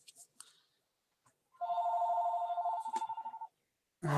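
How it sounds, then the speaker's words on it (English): A telephone rings indoors, a steady electronic warble with harmonic tones holding for about two seconds, then stopping; brief noises come before it and a loud burst cuts in at the end. "Fucking phone, fuck off."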